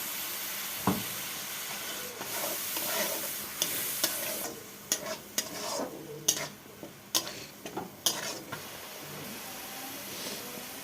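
Prawn masala cooking in a pan, with a soft sizzle and hiss throughout, broken by a series of sharp scraping taps as a spatula stirs it, irregular and close, with no voices.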